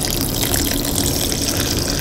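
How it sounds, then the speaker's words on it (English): Fresh water pours steadily into a pot of uncooked sushi rice, a continuous close gushing splash like a running tap, loud and unbroken. "now I'm going to add some fresh water to this to cook it"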